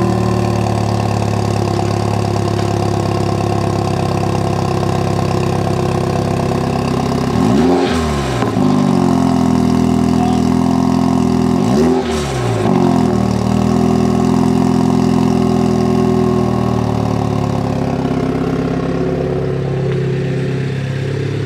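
A car idles with a steady low hum, then its engine is revved twice in short, sharp bursts that rise and fall back to idle, loud and close.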